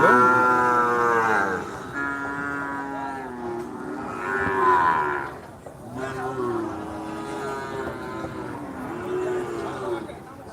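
Cows bellow in long drawn-out moos at the Ambari cattle market in Dinajpur, several calls rising and falling close by while people talk in the background.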